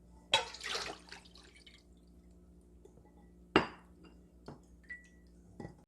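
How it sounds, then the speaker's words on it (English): Rinsed food drains in a home kitchen, with a few sharp clinks and splashes, scattered drips, and quieter stretches between them. "Let's drain it."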